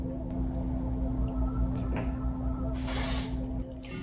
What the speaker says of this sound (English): I'm just putting a little bit of holding spray to press it out with.